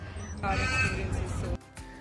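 Crows caw loudly and close by in a rapid run of harsh calls that cuts off abruptly, with a person talking underneath throughout.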